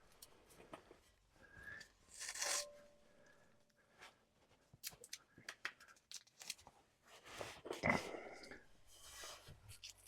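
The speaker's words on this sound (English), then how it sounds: "I'm going to take some tape, run it around" Tape being pulled off the roll, torn and wrapped around a Duramax exhaust pipe, with scrapes, crinkles and a sharp rip, close and uneven.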